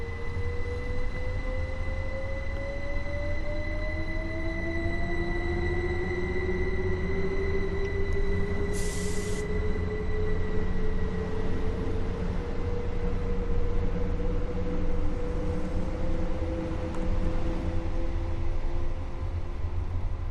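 A train on the East Coastway line between Brighton and Ore in Train Sim World 2 passes by with a low steady rumble and rising and falling motor tones, continuous and moderately loud, with no talking.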